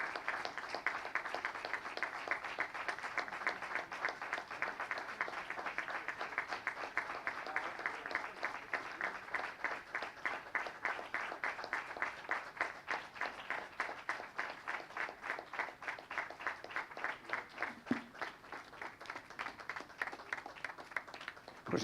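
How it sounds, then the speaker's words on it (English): Audience at an international congress on industrial and business documentation gives a long, sustained round of standing-ovation applause, dense rhythmic clapping holding steady for over twenty seconds with no talk. "we bid her temporarily farewell with a great round of applause"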